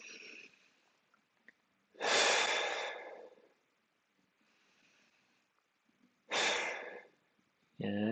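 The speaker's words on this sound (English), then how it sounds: "Still be able to take breaths in and out." Heavy exhaled breaths during a gentle mobility exercise workout, several loud breathy puffs spaced a few seconds apart with quieter breathing between, close and alone.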